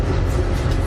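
A passenger train rolls along the rails approaching Llandudno Junction in Wales, heard from inside the carriage. It gives a loud, continuous low rumble and roar with a steady rhythm of wheel noise.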